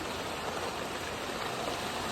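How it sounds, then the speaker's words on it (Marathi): Heavy rain falls at a farm field, producing an even, unbroken hiss of downpour at moderate distance, fairly quiet, with no voices. "जेव्हा असा जोरात पाऊस असतो"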